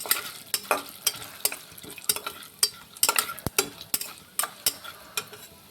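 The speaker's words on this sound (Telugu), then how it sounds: "ఎండుమిర్చి, తాలింపు గింజలు, జీలకర్ర ఇవి బాగా ఫ్రై అవ్వనిద్దాం" Dried red chillies, seasoning seeds and cumin fry in hot oil for an eggplant masala, with a soft continuous sizzle broken by repeated close scraping stirs of a spoon against the pan, alone without talk.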